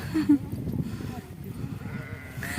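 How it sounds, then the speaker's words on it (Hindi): A sheep bleats a couple of times at a rural family home in Rajasthan during Makar Sankranti, fairly close amid low background chatter and household noise. "अरे भेड़ बोल रही है इधर तो।"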